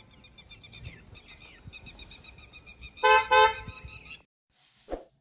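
A Hyundai Creta horn fitted to a Maruti Baleno sounds in several short honks, fainter at first, then two loud, close blasts, followed by a pause and a brief thump.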